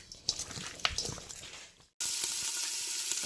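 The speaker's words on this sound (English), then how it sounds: "I'm going to saute this rabbit, the pieces, in batches just to get a little brown color on them." Rabbit pieces sauté in a pan with crackling, uneven sizzling that suddenly swells into a loud, steady hiss as more meat hits the hot oil.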